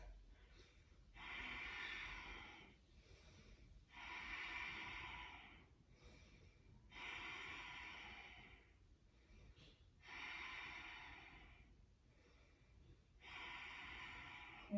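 Slow, deep breathing during a yoga flow, with five long audible breaths in a steady rhythm and quiet pauses between them, soft and close.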